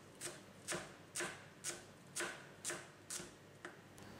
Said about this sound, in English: and then just give it a rough chop